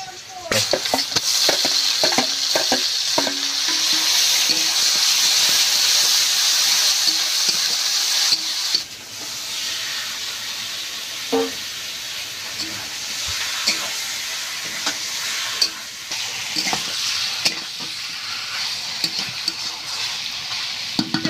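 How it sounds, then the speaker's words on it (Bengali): Onion paste, then ginger-garlic paste, frying and being stirred in hot oil for a chicken curry, a steady loud sizzle with scraping stir strokes and clinks, dropping slightly after eight seconds but sizzling on. "এবার কিন্তু তেলে পেঁয়াজ কষা দিয়ে দিচ্ছি।"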